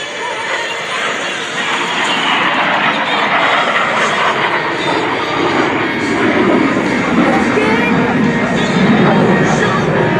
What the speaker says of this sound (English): Watch here as Greg dives back in the Cuban 8 maneuver, this beautiful T-33 Shooting Star.